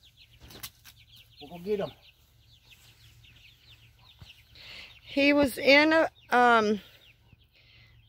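Chickens and a rooster in a backyard coop give several short clucking calls, a brief burst early and then three louder, closer calls near the end, between stretches of quiet with brief talk at the start.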